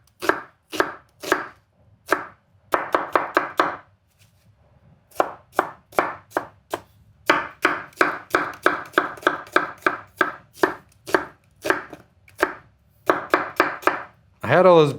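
A knife quick-dices one onion on a board: close, crisp chops in fast rhythmic bursts of several strokes each, broken by brief pauses.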